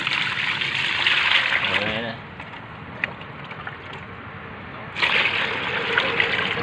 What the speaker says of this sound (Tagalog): Lalagyan uli natin ng tubig.